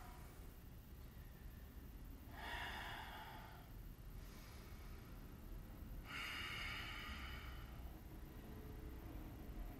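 Slow, deep breathing during a gentle yoga flow: two soft, airy breaths, faint and close, in an otherwise quiet room with no talking.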